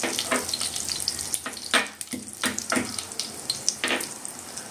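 Crackling sizzle of garlic frying in hot oil, steady hiss with a few louder bursts and pops, close by, no talking.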